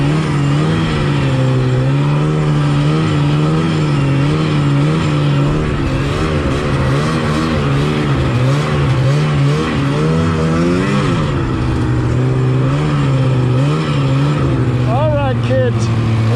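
A 1986 Yamaha Phazer 480 snowmobile engine is recorded on board, its loud two-stroke drone rising and falling in pitch as the throttle is worked, continuous and close throughout.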